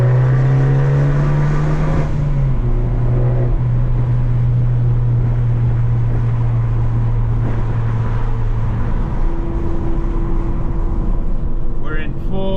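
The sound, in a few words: Abarth car accelerating through the gears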